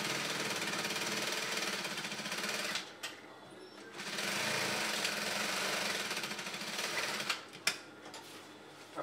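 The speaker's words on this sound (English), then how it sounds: "So this part as well, I'll be stitching down." A sewing machine stitches down fabric for a Yoruba cap, running in loud, continuous mechanical buzzing bursts with a short pause in the middle and brief clicks and handling sounds near the end.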